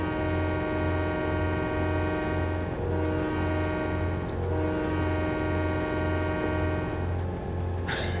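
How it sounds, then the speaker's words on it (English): Default American locomotive horn in the Trainz 22 railway simulator, a loud sustained multi-tone chord blaring continuously for several seconds over a pulsing rumble of the engine, with no talking. "That is the default Trainz horn"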